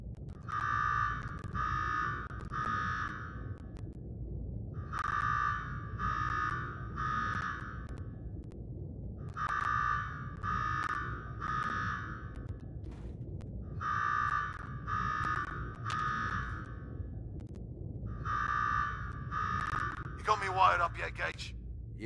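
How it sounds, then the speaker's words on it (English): An electronic alarm in the video game Fallout 4 beeps in repeated bursts of three high tones, cycling steadily over a low background hum, with a brief rising sweep near the end. "Now go shut off that damn alarm."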